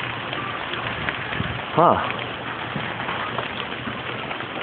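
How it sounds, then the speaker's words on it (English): Steady rain pours down outside an apartment during a thunderstorm in Apple Valley, a dense continuous hiss with a short voice exclamation partway through. "It's raining like a motherfucker out there."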